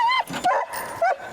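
Several dogs yip and bark in short bursts close by, with whimpering tones between the barks, loud and alone.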